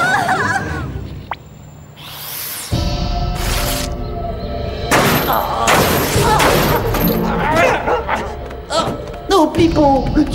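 A cartoon dog named Pipo barks and yips in short bursts amid lively animated-show music and effects, with voices speaking around it.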